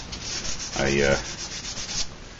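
A forged knife blade is hand-sanded with 180-grit sandpaper, giving a close, gritty rub with one louder stroke in the middle against a steady scratchy background, and no voices.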